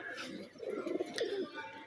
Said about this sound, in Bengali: এই কবুতরগুলো উঠতেছে, কবুতরগুলো সুস্থ আছে